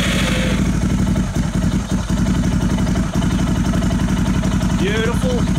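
Motorcycle engine running close by at a steady, throbbing idle with rhythmic mid-pitched pulses and some mechanical clatter, plus a few brief dips and short squeaky sounds near the end.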